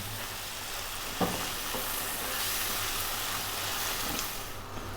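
Pasta sauce made with crushed plum tomatoes sizzles and bubbles steadily in a pan, a soft continuous frying hiss with a few small clinks and stirring sounds, fairly quiet and close.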